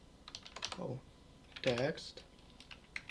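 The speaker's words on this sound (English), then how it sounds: "So let's type to our layout." Quick bursts of keystrokes on a computer keyboard during Python coding, light clicks scattered between and beneath someone speaking.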